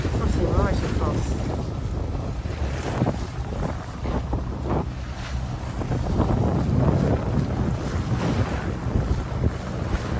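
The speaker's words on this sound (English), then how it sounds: "we've got the engine running so they can hear that we're here" A sailboat's engine runs at sea on a foggy solo passage off the Southern California coast, a low continuous drone mixed with rushing wind buffeting the microphone and waves slapping the hull.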